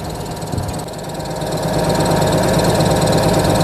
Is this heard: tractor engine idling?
yes